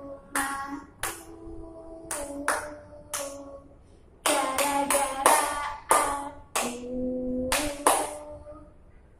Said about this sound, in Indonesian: Ditandai dengan tepuk yang kuat seperti ini ya